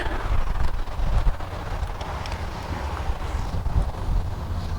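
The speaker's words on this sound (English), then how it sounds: "Little less windy here. Not much, but a little." Gusty wind buffets the microphone in uneven bursts, rising and falling in loud rumbling waves with no voices.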